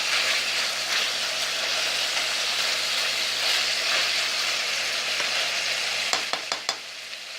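Flank steak with homemade barbecue seasoning fries in oil with a steady, loud, close sizzle, and a few sharp clinks near the end.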